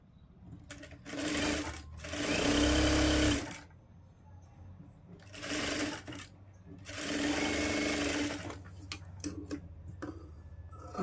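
A sewing machine runs in two long, loud bursts as it stitches a lined blouse, with short ticking starts and stops and quiet pauses between the runs.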